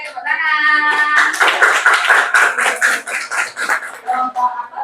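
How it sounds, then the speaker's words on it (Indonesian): Schoolchildren in a classroom clap their hands together in a brief burst while children's voices chant and call out over and between the claps, fairly close. "Oke, tepuk tangan."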